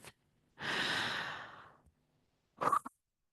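A slow, deep breath, heard as a long, soft exhale lasting over a second that fades out, followed after a pause by a short, sharper breath, close and quiet in otherwise silent surroundings.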